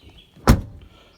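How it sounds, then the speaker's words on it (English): A single solid thud of a truck door slamming shut, close by, with a brief low rumble after and quiet before and after. "Shut the door,"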